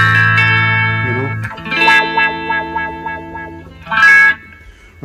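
Electric guitar with a reggae tone run through a wah pedal and straight into a QSC speaker: chorused, slightly distorted single notes and a quick run of choppy plucked notes, with swelling filtered tones, played alone and close.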